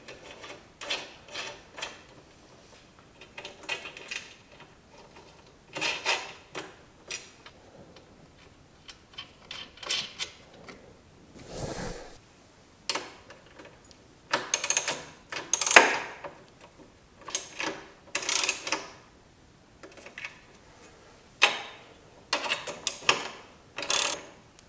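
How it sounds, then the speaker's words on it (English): Carriage bolts being fitted during assembly of a DeWalt DWE7491X table saw, giving scattered quiet metallic clicks, ratcheting and rattling handling noises in short irregular bursts. "So now I just have to put those carriage bolts in."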